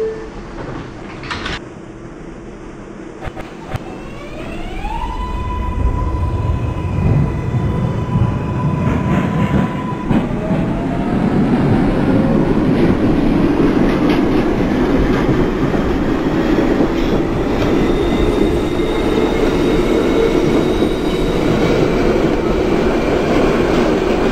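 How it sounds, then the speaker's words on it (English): R142A 6 subway train in the openBVE train simulator game pulling away with a rising electric motor whine, then running with steady loud wheel rumble and clatter for a long stretch. "This is a Manhattan-bound 6 train."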